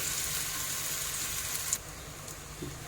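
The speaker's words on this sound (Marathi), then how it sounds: "आता आपण याच्यावरती थोडं थोडं तेल टाकूया होलमध्ये म्हणजे सगळीकडे चांगलं व्यवस्थित भाजेल" Thalipeeth flatbread frying in oil on a pan, a steady close sizzle and hiss that softens slightly partway through, with a faint tap near the end and no voices.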